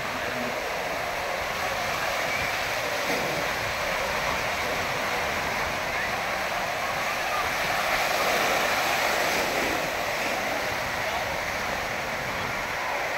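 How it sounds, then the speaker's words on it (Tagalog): Ocean waves break on a beach at Urbistondo, San Juan, La Union, making a steady, broad roar of surf that runs continuously without clear pauses. "Ganda ng alon."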